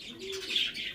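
Pakistani pigeons in a loft give a brief low coo, followed by higher chirpy calls and a hint of wing flutter, close and fairly quiet.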